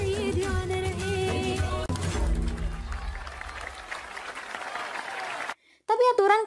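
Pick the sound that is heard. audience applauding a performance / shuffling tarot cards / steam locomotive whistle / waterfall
audience applauding a performance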